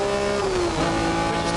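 In-car sound of a race car engine during the 1981 Bathurst 1000, a loud, steady drone with a slight pitch shift as revs change, filling the cabin with no talking.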